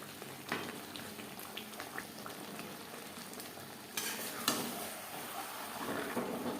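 Chicken chaap cooks over high flame in a pan with cashew, raisin and peanut paste, giving a soft, steady sizzle and bubbling while occasional scrapes of stirring come through, quiet and close, with no talking.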